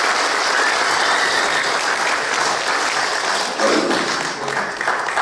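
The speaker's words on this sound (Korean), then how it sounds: "우리 뜨거운 박수 부탁드리겠습니다" Warm audience applause at a book concert event in a hall, sustained even clapping from a large crowd that holds steady, dips briefly near the end, then swells again.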